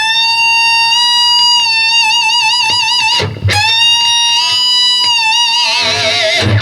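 Distorted electric guitar lead from a song, with sustained notes, a wide pitch bend and shimmering vibrato, a quick slide near the middle, played alone and loud.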